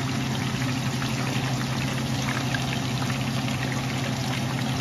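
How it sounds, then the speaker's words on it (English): Fish fried in heated oil, a steady dense sizzle and bubbling that runs continuously and evenly at moderate loudness, with no voices. "Got the oil heated up. I'm just gonna add the fish to fry"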